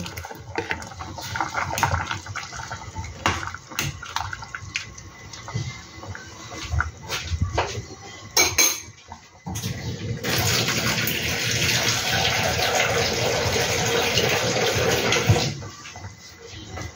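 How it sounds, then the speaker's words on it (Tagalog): Water is poured into a pot of pork tongue, pig ears and intestine soup, first with scattered splashes and clatter, then a steady loud gushing stream for several seconds before stopping. "Dagdagan po natin ng konting tubig para may sabaw-sabaw naman."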